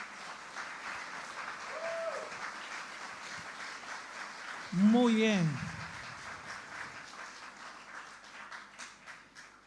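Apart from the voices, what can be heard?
congregation applauding in church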